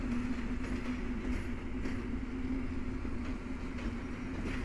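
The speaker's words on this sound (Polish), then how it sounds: "Ruszył skład do Grodziska Mazowieckiego EN 71 102" An EN71 electric multiple unit pulls away from a station, toward Grodzisk Mazowiecki, as a steady, loud rumble with a sustained motor hum and faint rail clatter running throughout.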